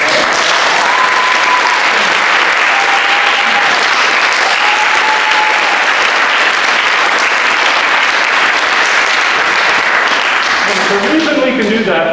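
Sustained audience applause fills a concert hall after a large drum ensemble performance rooted in Yoruba drumming, dense steady clapping from start to end with faint voices mixed in.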